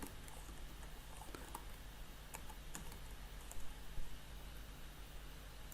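Quiet, steady typing on a computer keyboard, a soft continuous patter of keystrokes with a few slightly louder taps near the end, heard alone without talk.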